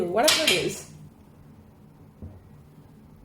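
A quick clatter of dishes and clinking tableware as a cat knocks them over, with a voice speaking over it, then a faint thump.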